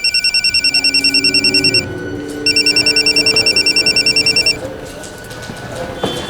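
A telephone rings on an outgoing call, two bursts of rapid electronic trilling, loud and close, then quiet room tone.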